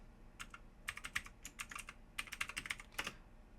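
JavaScript code being typed on a computer keyboard: quick irregular bursts of key clicks in clusters, close and fairly quiet, with no talking.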